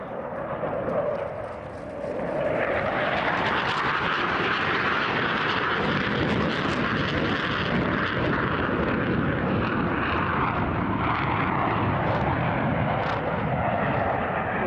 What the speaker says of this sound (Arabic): طائرة من نوع GF-17 الملقبة بالرعد